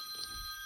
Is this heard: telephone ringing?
yes